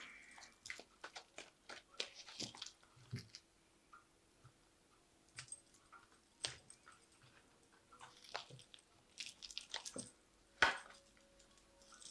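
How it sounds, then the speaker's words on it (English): Tarot cards drawn from a shuffled deck, a scattered series of soft, crisp clicks and card slaps spaced irregularly in an otherwise quiet room. "So I'm just going to draw some cards from this deck."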